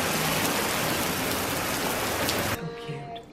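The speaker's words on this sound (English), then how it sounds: "It's raining pretty good out there right now." Heavy rain pours down in a steady, dense hiss, then abruptly cuts off, leaving a quieter background with faint tones.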